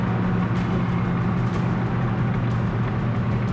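Corvette resto-mod driving, a steady loud engine and exhaust drone from inside the car with road rumble, the pipes crackling faintly underneath.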